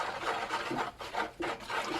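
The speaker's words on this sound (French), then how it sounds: "Je mélange bien." Washing soda crystals and baking soda stirred into a melted homemade laundry mousse mixture, a rhythmic gritty scraping in repeated strokes, close and steady, no talking.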